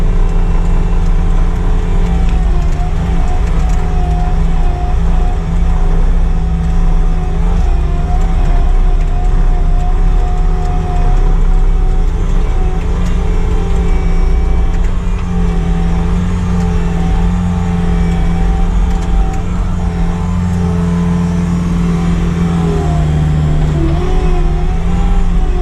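Bobcat T76 compact track loader engine labouring hard while pushing through dirt in cold weather, a loud, steady low drone with constant rumble throughout and no letup.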